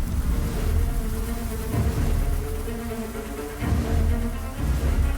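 A swarm of honeybees mobs an intruding wasp in the hive, a dense, loud, continuous buzz of many wings with rumbling low tones throughout.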